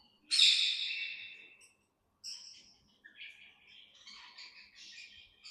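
Several aviary birds give shrill, high calls, a loud burst first and then scattered chirps and squawks after a brief pause, close by with no talk.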